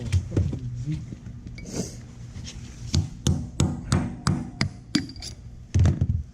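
A hammer strikes a metal punch in a series of sharp, ringing taps, close by, roughly evenly spaced with a few heavier knocks, while servicing a Graco pump.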